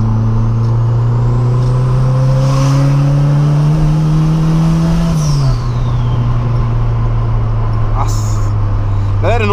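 A VW Gol TSI turbo car accelerates hard in third gear, with a loud, close engine drone rising steadily in pitch, then dipping briefly before pulling on. Turbo whoosh and a faint whine sit over it.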